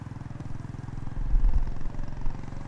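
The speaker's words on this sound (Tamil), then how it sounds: "உன்கிட்ட பேசிக்கிட்டே பைக் ஓட்டிக்கிட்டு இருக்கேன்." A motorcycle engine rumbles steadily at close range, its low drone swelling briefly in the middle before settling back.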